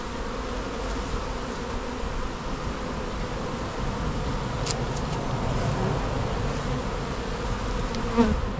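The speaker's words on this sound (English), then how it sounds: "We have some bees walking this way." Bees milling around a bin during a hive removal, a constant close droning buzz that holds steady throughout, faint distant traffic underneath.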